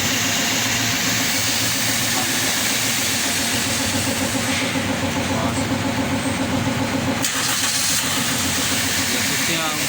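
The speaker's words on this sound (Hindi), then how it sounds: "अभी हम आपको इसकी स्टार्टिंग चेक करवाएंगे।" A 2012 Toyota Corolla engine running steadily at a garage workshop, a loud, constant mid-pitched idle hum with a regular mechanical pulse that barely changes over the whole stretch.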